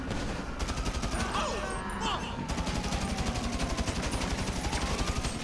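Rapid automatic gunfire rattles in Grand Theft Auto V, a continuous fast string of shots held at a steady, moderate level with a few whooshing sweeps passing through.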